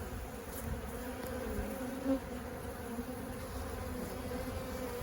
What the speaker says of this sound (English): All these flying around acting crazy are robber bees.